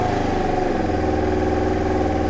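A Honda Deauville motorcycle engine idles steadily with a slightly high tick over, a close, continuous mid-pitched rumble with a faint rhythmic pulse and no voices.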